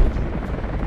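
A helicopter arriving in the video game Rise of the Tomb Raider gives a brief, loud, low rumbling rotor drone that fills the moment with no voices.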